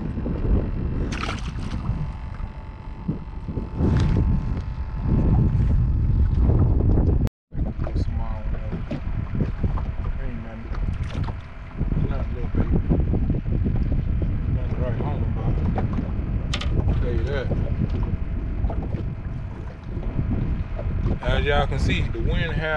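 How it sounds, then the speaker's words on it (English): Wind gusts across open water during a crappie fishing outing, a steady rushing buffet against the microphone with a brief dropout partway through, while someone talks over it. "Y'all can see the wind have picked up."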